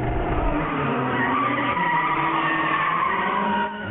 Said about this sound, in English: The Sports Fan crew was honoured with a professional on-track drift display.